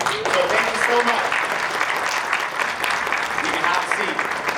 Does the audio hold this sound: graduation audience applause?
yes